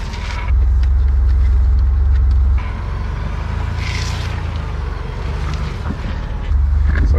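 A 2022 Ford Bronco creeps over rocks off-road, its engine and drivetrain giving a low loud rumble that eases for a few seconds and then swells again, with wind buffeting the microphone.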